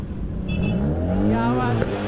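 A car engine revs at an auto expo on a university club ground, rising in pitch over about two seconds; loud and close, with crowd murmur under it.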